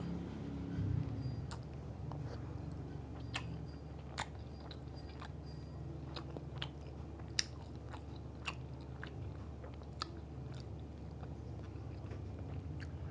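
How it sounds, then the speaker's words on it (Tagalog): Biting and chewing barbecued chicken at a Philippine mukbang: soft crunchy bite clicks and wet chewing come in irregular bursts over a steady low background hum, with no talking. "Unang kagat."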